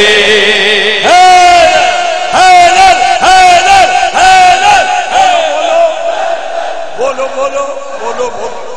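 A large crowd at a religious Jashan gathering for 11 Rajab chants slogans in loud, rhythmic unison, repeated shouted phrases in regular bursts with a leader's voice between them.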